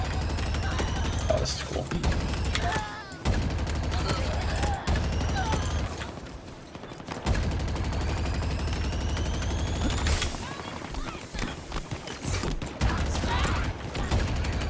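A big gun firing in the video game Halo Infinite gives loud, sustained rapid fire with a brief lull midway, while someone speaks briefly over the shooting.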